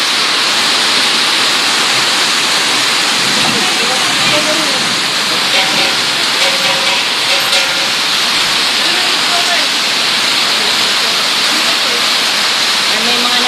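Steady, dense roar of heavy rain pouring down continuously on a welder still working outdoors, loud and close, with faint voices buried underneath.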